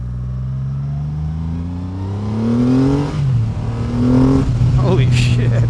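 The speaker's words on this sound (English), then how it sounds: "Really nice deep sounding exhaust." A 2024 Triumph Rocket 3 GT Storm motorcycle on its stock exhaust pulls away with a deep, rising engine note that climbs in pitch across two gear pulls, loud and close, with a rider's voice over it.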